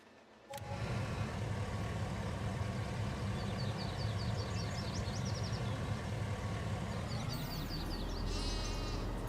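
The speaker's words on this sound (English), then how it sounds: "So we're gonna start off with 4 sheep." Sheep bleating in the farming game Farming Simulator 19, a run of short, fairly faint bleats over a steady low engine-like rumble from a vehicle with a small trailer.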